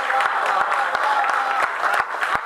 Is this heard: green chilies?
no